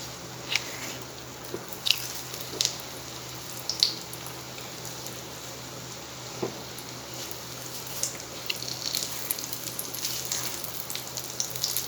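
Goan prawn potato chops fry in oil, giving a steady close sizzle with scattered small pops and crackles throughout and no speech.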